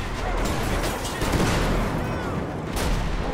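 A tank firing in Grand Theft Auto V, heavy continuous booming and crashing gunfire, loud and near, with a louder burst toward the end and no clear talk.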